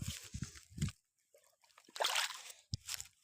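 Water sloshing and trickling in a village canal, a few soft close splashes and dribbles separated by short quiet gaps, faint and intermittent.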